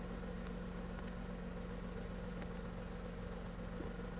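A car engine idles steadily while warming up with coolant around 35 degrees, a constant low hum with a faint tonal drone and light vibration throughout, no voices.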